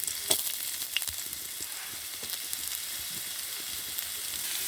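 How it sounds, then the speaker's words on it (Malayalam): Steady sizzling and crackling of sliced onions and green chilies frying in hot oil, with scattered pops and spits throughout. "മുറിച്ച് വെച്ച സവോളയും പച്ചമുളകും ചേർത്ത് കൊടുക്കാം"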